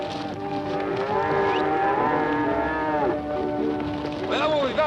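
Cattle mooing in long, drawn-out lowing calls, several animals overlapping near and far in a herd being driven toward Norfolk.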